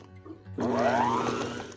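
A mixer starts abruptly partway through and beats gluten-free French bread dough again with a steady, loud whirring hum after the rest of the water is added.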